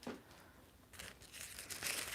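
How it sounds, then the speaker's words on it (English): Small pieces of paper and tissue paper crinkle and rustle as hands handle them, quiet and close, in a few short bursts of crackling with brief pauses between. "Mocha, I don't have any more fun, noisy paper, but I got little paper."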